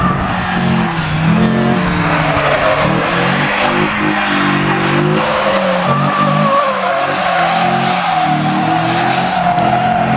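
A Ford Sierra rally car at a Polish amateur rally in Krosno passes close by, its engine roaring hard and steady with gear changes and squealing, skidding tires throughout. No one speaks.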